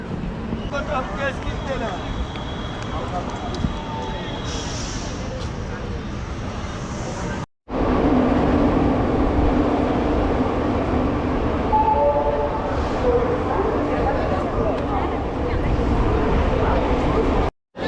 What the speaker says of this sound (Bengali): এখন ট্রেন এসে ঢুকছে ব্যান্ডেল জংশনে